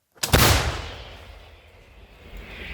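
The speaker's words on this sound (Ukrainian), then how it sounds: "Постріл!" A single heavy artillery shot booms sharply during a military firing exercise, then its rumble rolls away and fades into distant echoing.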